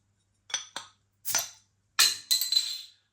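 A bottle of Żywiec IPA beer is opened with a few short sharp clinks and scrapes, followed by a brief hiss as the cap comes off, close and clear with no talk.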